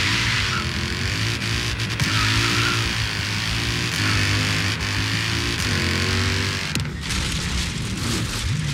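Car engine in Forza Horizon 3 roaring loudly under hard acceleration, pitch sweeping up and down through gear changes, close and dominant, with a sharper burst of noise near the end.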